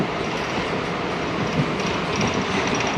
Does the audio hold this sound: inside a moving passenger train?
yes